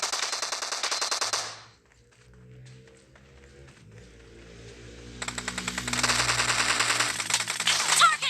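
Rapid automatic gunfire from the mobile battle royale game PUBG Mobile: a fast burst of shots, a lull with a low game soundtrack, then another sustained volley of close, loud rounds.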